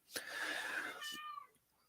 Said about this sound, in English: that's what you're hearing in the background is my little boy cat treasure hunting